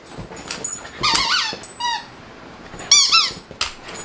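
A dog squeaks a rubber toy in a few sharp, high-pitched bursts, with short whimpering and rustling in between, all close and loud.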